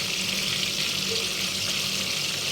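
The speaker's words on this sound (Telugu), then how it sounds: "తర్వాత కొద్దిగా నిమ్మరసం, కరివేపాకులు ఎర్రగా వేయించుకోవాలి." Curry leaves frying in a pan, a steady close hiss and sizzle that holds evenly without pause, with faint voice underneath.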